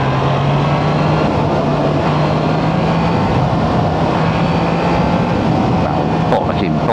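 A Triumph Trident 660 motorcycle engine drones steadily under throttle, loud and close, mixed with heavy wind rush throughout.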